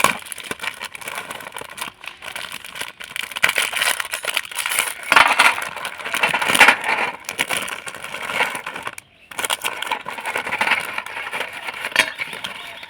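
Marie biscuits pulled from their plastic packet, a sustained crinkly rustle of wrapper with scattered light clinks and cracks, close and fairly loud, briefly pausing near the middle.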